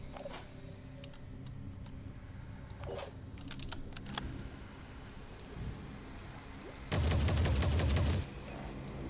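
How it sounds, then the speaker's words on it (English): Burst of gunfire from the turn-based strategy video game Phoenix Point, a dense rattling volley lasting about a second near the end, over a low background hum with faint clicks earlier. "I'm just gonna shoot directly at your body to do as much damage as possible."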